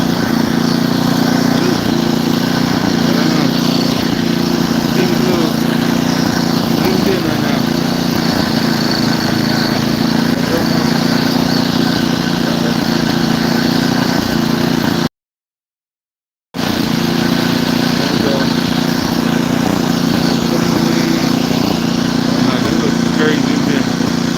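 A snow blower's engine drones loud and steady on a snow-laden driveway during a blizzard, running continuously close by with one brief cut in the sound.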